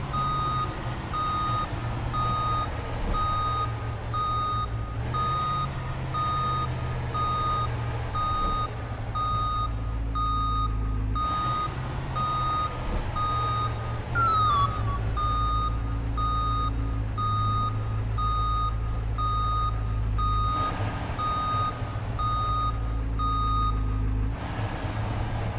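Reversing beeps from a 2003 Blue Bird International 3800 Shorty school bus parking in the Rigs of Rods video game: a steady evenly spaced beeping over a low diesel engine rumble that rises and falls.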